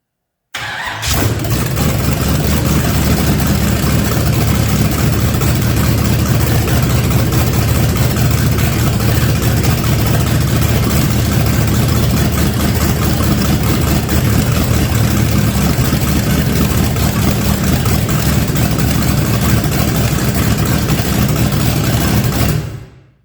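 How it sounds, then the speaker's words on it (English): A Chevelle engine running for the first time in 30 years, idling high with a steady, loud, close rumble that holds without a break from just after it fires up until it cuts off at the end. "That fired up way faster than I thought it would. But boy, is the idle high on that."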